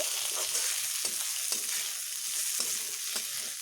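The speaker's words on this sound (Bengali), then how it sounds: "এবার আলু ও ঝিঙেগুলোকে ভালোভাবে মিশিয়ে নেব এরকমভাবে আর একটু ভেজে নেব" Potatoes and ridge gourd fry in a pan with a constant close sizzle, while a spatula stirs and scrapes through them in repeated short strokes.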